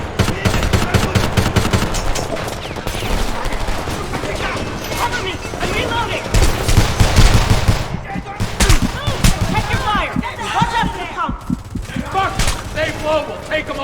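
Rapid bursts of automatic gunfire and scattered shots fill a Homefront video game battle, loud and near, rattling almost without pause while voices shout over the shooting.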